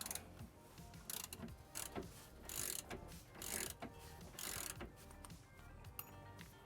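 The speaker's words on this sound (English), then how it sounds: "Aaron's breaking his first motor mount loose." Wrench ratcheting to break loose a motor mount bolt on an old boat's transom, faint rapid clicking and grinding in short uneven bursts, close by.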